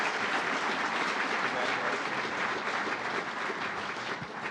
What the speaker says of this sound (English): Let's give a round of applause to all of our ALAC students